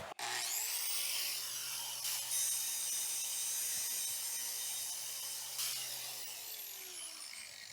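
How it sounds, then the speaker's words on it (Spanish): An angle grinder mounted on a homemade bench stand spins up with a sharp whine, runs at a steady high-pitched hum for several seconds, then winds down, close and loud with no talk. "encendemos nuestra esmeriladora."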